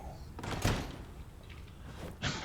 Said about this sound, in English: we close the door so nobody can see what we left